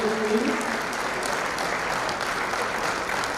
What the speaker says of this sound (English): You can clap for them as they come up majestically.